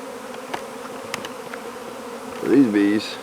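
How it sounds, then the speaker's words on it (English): Bees being captured for bee venom therapy buzz in a low, steady drone close by, with a louder, rising buzz near the end as one passes right at the microphone. "So these bees are gonna go in here."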